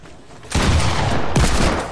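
Desert Eagle pistol shots ring out in a video game as two loud, booming blasts about a second apart, each followed by a dense crackling tail that fills the short clip.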